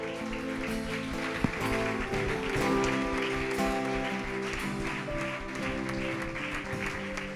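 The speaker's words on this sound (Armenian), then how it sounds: "Եկեք զորավոր ծափարենք" A church congregation claps together in steady, continuous applause, mid-level and fairly distant, under sustained music and voices.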